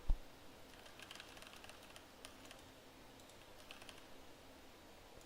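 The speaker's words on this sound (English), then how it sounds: "are you able to hear my keyboard now when I'm typing?" Quiet typing on a computer keyboard, made up of scattered, faint key clicks in loose bursts over a steady background hiss, with no talking.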